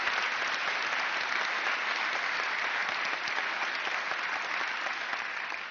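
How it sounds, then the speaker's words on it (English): Steady, dense audience applause for library staff at a forum, sustained at an even level throughout before easing slightly at the end. "Let's have a round of applause for them"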